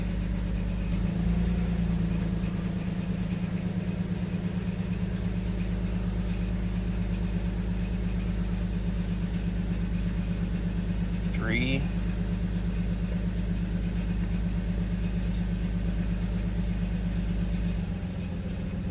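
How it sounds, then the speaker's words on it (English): Nissan Xterra engine idling rough with a misfire and dropping RPM, a steady low droning rumble throughout with a brief whine-like sweep partway, someone speaking over it. "Yeah, RPM's dropping and it's running worse."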